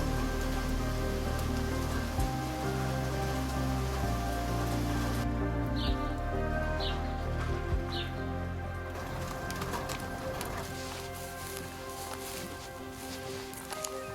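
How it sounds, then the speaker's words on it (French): Rain falls steadily in a spring mountain forest, a dense even patter on leaves and ground that carries on without pause, with a few faint bird chirps and soft rustles in the background. "la pluie est toujours la bienvenue, apportant une nouvelle énergie en montagne"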